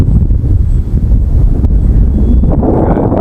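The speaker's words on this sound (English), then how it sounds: "the wind also doesn't help" Wind buffeting the microphone outdoors during the flight of a Hawker Tempest model aircraft, a loud, continuous low rumble and roar that fills the whole stretch.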